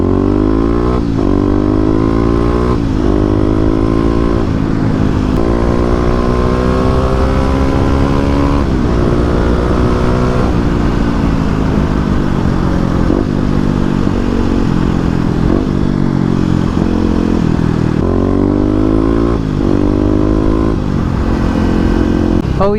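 A Kawasaki KLX250 motorcycle rides and accelerates through the gears on a town street, its engine loud and close, repeatedly revving up through rising pitch and dropping back at each shift over the full ride.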